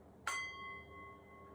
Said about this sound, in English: Sounds like our chime